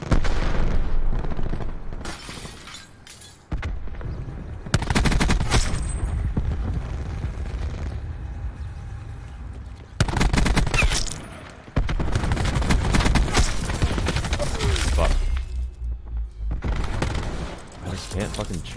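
Continuous automatic gunfire from the Wildfire weapon in the video game Black Ops 4, loud and sustained in long bursts with brief gaps and booming impacts.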